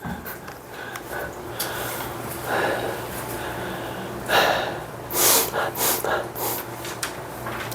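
Students in a high-school math classroom let out several breathy yawns and sighs, scattered and moderately close, with little talking between them.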